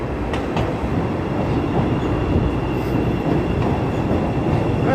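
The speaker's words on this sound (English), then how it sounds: "I thought a train was coming. It snuck up on me. This must be a pink line." A Chicago L Pink Line train rumbles past near Randolph and Wells Street downtown, a steady loud roar of wheels and rail clatter that holds for several seconds with no talking.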